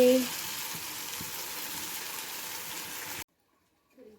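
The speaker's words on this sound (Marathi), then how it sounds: "छान पोहे परतून घेते मी" Poha being stir-fried in a pan with chili and spice masala gives a steady, close frying sizzle with light stirring scrapes for about three seconds, then the sound cuts off to near silence with a faint noise at the end.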